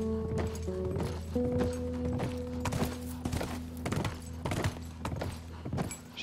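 Horse hooves in The Last of Us Remastered clop in a quick, uneven rhythm of close, distinct hits over a low hum, with a few heavier thunks along the way.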